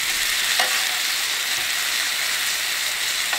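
Food sizzles steadily on a camping griddle, a loud, dense hiss that continues unbroken, with a faint scrape or tap as pieces are flipped.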